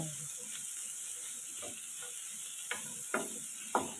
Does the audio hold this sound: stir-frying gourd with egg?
yes